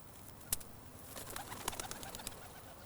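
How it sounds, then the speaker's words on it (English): Racing pigeons released one by one on a training toss in a wide open space, with a sharp flap or clap, soft cooing and scattered wing sounds at moderate distance, fairly quiet overall. "In a wide open space, the pigeons are tossed out one by one."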